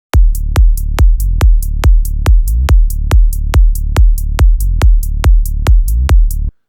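Electronic drum loop built from panned loops, with booming kicks and crisp percussive hits repeating in a fast steady rhythm, loud and dry, running several bars before stopping abruptly.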